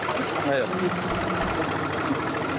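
A tractor engine runs steadily at idle with a low mechanical rumble throughout, while people talk over it nearby in Portuguese.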